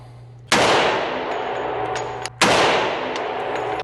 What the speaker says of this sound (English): Let's start off with double action, decock it, rip off a round.